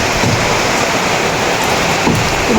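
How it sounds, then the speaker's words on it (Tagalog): Heavy rain pours down in a dense, loud, unbroken roar, steady throughout with no voices. "bumuhos na pong malakas na ulan"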